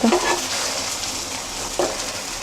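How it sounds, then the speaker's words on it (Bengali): Small sarpunti fish frying in oil in a pan for a cucumber curry, giving a steady close sizzle throughout with a couple of brief louder bursts as the pieces are turned, no talking. "এই তো মাছগুলোকে ভালো করে ভেজে নিতেছি, পাশ ভাজা হয়ে গেছে।"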